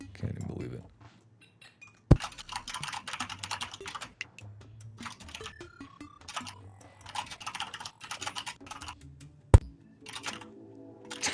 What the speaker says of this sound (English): Dude, your mechanical keyboard sucks. I always hear it.